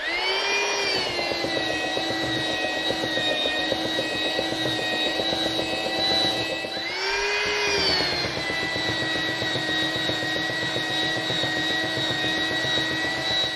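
Glued-up wood panel being hand-sanded flat, a steady abrasive whine with a pause around seven seconds before it resumes, close and continuous with no talking.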